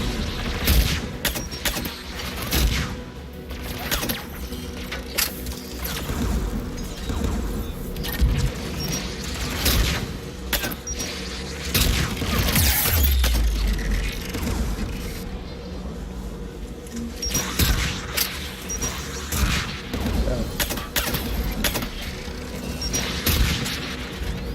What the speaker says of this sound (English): There, the anti-aircraft guns.